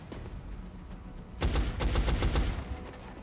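Burst of gunfire from the 2012 PC strategy game XCOM: Enemy Unknown: a quiet stretch, then a loud rapid volley of shots erupting and rattling for about two seconds before easing off, with no voices.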